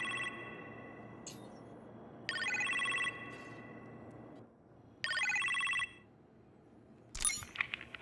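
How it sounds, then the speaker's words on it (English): A telephone in a kitchen rings in the game Marvel's Iron Man VR, two clear electronic ring bursts over a low hum, followed by a brief clatter near the end. "You appear to have a phone call in the kitchen"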